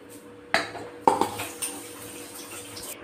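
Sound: washing pointed gourds (parwal) in water

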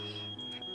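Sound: alarm going off in Nancy Drew video game

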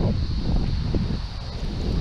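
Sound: wind blowing at a dam

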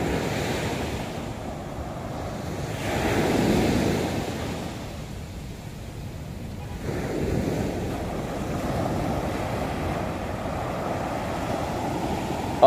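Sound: sea waves at Nha Trang seafront

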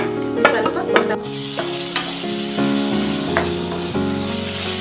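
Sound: onion and tomato frying in oil with mustard seeds, cumin

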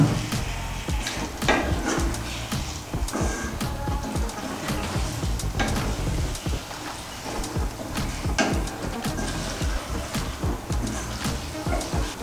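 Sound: chicken being stirred and fried with yogurt in a pot for biryani

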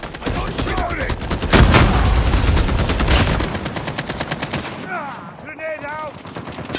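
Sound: gunfire in Call of Duty Mobile video game

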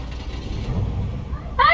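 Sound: car starting in a video game

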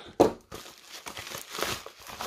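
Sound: bubble wrap bag being cut open and crinkled

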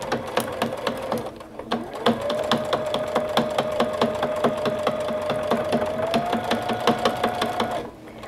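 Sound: sewing machine stitching a quarter-inch seam on a stocking

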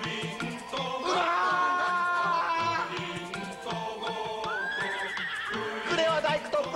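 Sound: horse neighing

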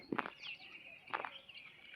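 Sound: sparrows chirping

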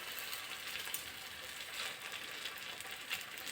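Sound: potato-zucchini pancakes with minced meat frying in oil

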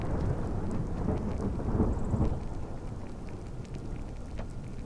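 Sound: thunder with rain

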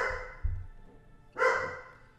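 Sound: dog barking, half German Shepherd

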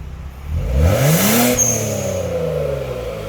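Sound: Genesis G70 3.3 revving with variable exhaust valve closed

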